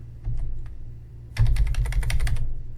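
Someone types on a computer keyboard while keying in RPG code in an IBM i source editor: a few sparse keystrokes, then a quick, close run of clicking keys.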